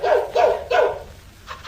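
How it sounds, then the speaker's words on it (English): A St Bernard dog barks three times in quick succession, loud and close, each a deep harmonic woof, followed by a quieter, fading tail. "Daisy, it's a dog."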